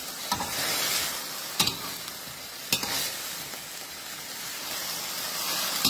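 Lotus stems stir-fry with pork in a hot pan, a dense crackling sizzle punctuated by a few sharp clanks of a spatula, close and fairly loud, without speech.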